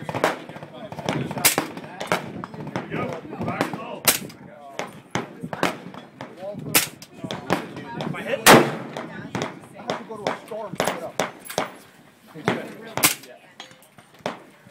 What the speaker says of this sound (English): New Smith & Wesson MP15 and 300 Whisper.